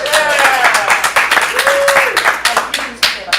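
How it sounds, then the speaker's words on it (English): Applause from an improv comedy audience in Portland fills the room, a dense patter of clapping with some voices and whoops mixed in, steady for about three seconds. "Give yourselves a round of applause"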